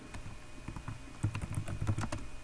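Computer keyboard typing in a short quick burst of clustered keystrokes, close and moderately soft over a quiet room hum, with no talking.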